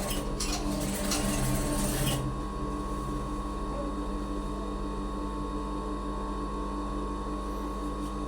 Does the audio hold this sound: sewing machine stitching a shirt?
yes